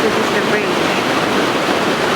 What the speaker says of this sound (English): you can hear the noise of the river